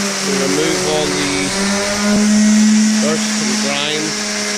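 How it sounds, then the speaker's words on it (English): A power sander whines steadily with a droning hum, close and loud, sanding the gel-coated hull of an Avon Searider rigid inflatable boat, while a person talks over it. "sanding the hull to remove all the"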